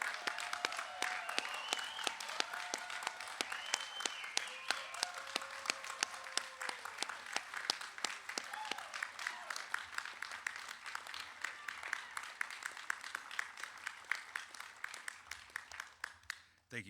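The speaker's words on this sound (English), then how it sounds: "Would you please join me in a round of applause for the graduates of Boatswain's Mate A 2408" A crowd claps steadily and fairly loudly for the graduating Coast Guard boatswain's mates at their graduation ceremony, with the applause slowly thinning toward the end.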